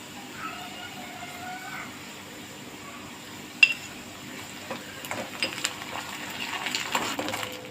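Onion with ginger garlic paste frying in hot oil, a soft steady sizzle with light stirring and spoon scrapes against the pan, one sharp clink midway and louder stirring toward the end.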